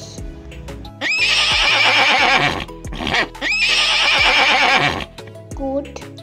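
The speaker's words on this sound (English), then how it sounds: "Horse." Two loud, close horse neighs in a row, each a shrill, quavering whinny lasting about a second and a half, set between background music.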